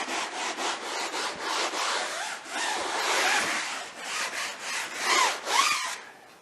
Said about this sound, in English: you can go ahead and use a soft bristle brush like this